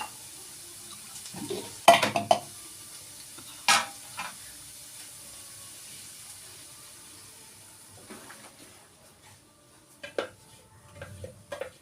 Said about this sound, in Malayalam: അപ്പോൾ നമുക്കിനി തൈര് ഒഴിച്ചു കൊടുക്കാവേ.